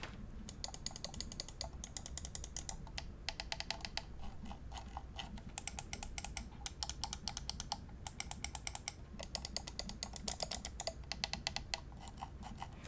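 Button clicks from an Endgame Gear XM1, a 70 g gaming mouse, come as a steady run of sharp, close, crisp ticks, alone and without talk.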